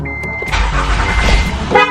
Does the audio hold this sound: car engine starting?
yes